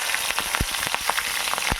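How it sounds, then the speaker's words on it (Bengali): Cumin seeds, a dried red chilli and slit green chillies sizzle in hot oil, a close, steady frying crackle with a few sharp pops, heard alone. "ওই তেলের মধ্যেই এবার কয়েকটা জিরে দিয়ে দেব, একটা শুকনো লঙ্কা, আর কয়েক টুকরো কাঁচা লঙ্কা চিড়ে দিয়েছি।"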